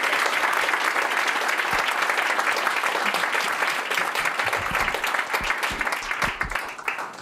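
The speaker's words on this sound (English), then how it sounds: "So please give me a large round of applause for this audience" A fireside chat audience applauds in a large hall, a loud continuous wash of clapping that grows more uneven and separated toward the end, with individual claps standing out.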